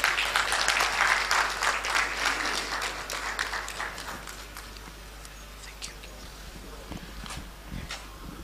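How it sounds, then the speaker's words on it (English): Audience applause at a law alumni association launch and public lecture, fairly loud at first and then gradually fading to scattered claps and a quiet room, with a low steady hum underneath. "Please, with a round of applause, help me."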